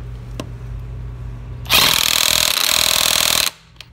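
A Milwaukee 1/2-inch impact wrench hammers on car lug nuts torqued to 80 foot-pounds, one loud sustained burst of rattling impacts lasting nearly two seconds, then stopping abruptly.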